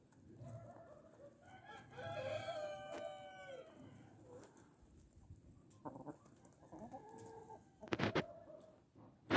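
Dark Brahma chickens cluck and call close by outdoors on a cold day, with a rooster-like crow rising in the middle and a few sharper squawks near the end, over soft background.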